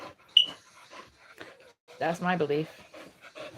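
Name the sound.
dog whimpering and panting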